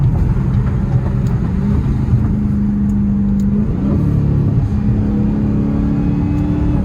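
A Dodge Challenger Hellcat engine heard from inside on an early morning drive, droning loud and steady with several rising and falling pitch shifts as it works through downshifts, alone without talk.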